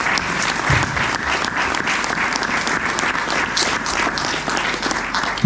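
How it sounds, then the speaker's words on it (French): An audience at an Éco-Défis label ceremony in Barrême applauds two honourees, a dense, steady round of clapping that holds loud and even throughout, with no voices over it. "On peut les applaudir tous les deux."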